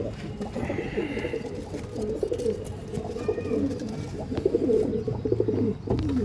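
Pigeons coo in low, rounded, overlapping calls throughout, a steady murmur from a flock of Punjabi-breed pigeons, including red gajra birds, kept by a fancier in Sangli, Maharashtra.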